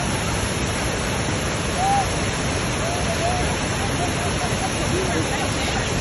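Steady broadband rush of a distant waterfall in open off-grid countryside, a continuous even roar with faint background voices mixed in.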